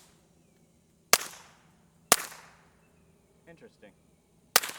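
Three suppressed gunshots fired wet, each a sharp loud crack with a short decaying tail, spaced unevenly with a brief spoken word between the second and third.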